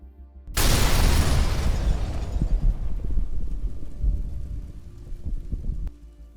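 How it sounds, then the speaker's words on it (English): An anti-tank mine detonates under an M113 armored vehicle in the Donetsk region, giving a sudden loud blast that rolls into a long, rumbling roar and fades over several seconds. "As the M113 enters the area, it hits an anti-tank mine, detonating and rendering it completely unusable."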